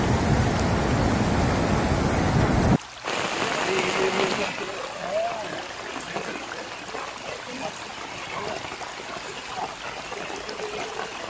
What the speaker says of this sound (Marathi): लाई बे पावसा